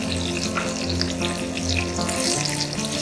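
Onions sautéing in a pan for Indori kanda poha, a steady close sizzle and frying crackle running throughout, with faint stirring, no voices.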